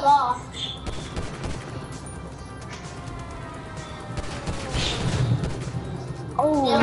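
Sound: pistol gunfire in a video game

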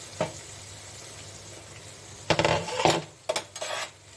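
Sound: lid being opened on a cooking pot

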